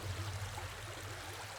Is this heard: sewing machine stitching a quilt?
no